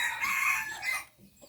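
Hybrid chickens in the evening, with a rooster crowing loudly and close for about a second before the call breaks off into quieter background clucking.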